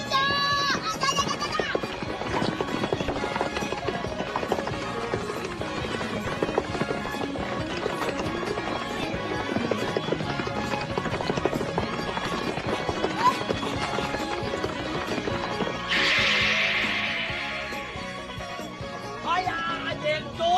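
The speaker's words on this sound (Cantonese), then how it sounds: "嗰隻好似狗咁樣嘅馬，居然可以同4歲嘅馬跑成平手喎" Cartoon racehorses gallop with rapid clip-clopping hoofbeats through a busy, dense mix of background sound, with voices at times, continuing for the whole stretch.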